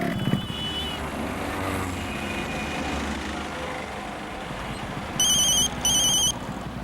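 A phone ringtone chirps in two short electronic bursts near the end, over steady traffic rumble from passing vehicles.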